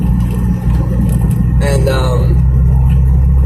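Car driving along a scenic road, engine rumbling as a steady deep drone throughout, with someone speaking briefly over it.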